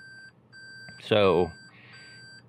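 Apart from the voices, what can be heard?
car reversing beeps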